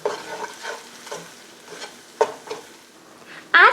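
Onions cooking in a stew pot with tomato paste, stirred with a utensil: soft sizzling and frying under repeated stirring scrapes, ending in a louder clatter against the pot.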